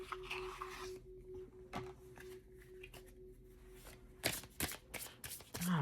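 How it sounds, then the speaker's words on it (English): Angels of Abundance oracle cards shuffled by hand, close and quiet, in a series of papery riffles and shuffles with brief pauses between them and no talking. "I'm going to pull 3 cards from the Angels of Abundance Oracle card deck to continue this reading"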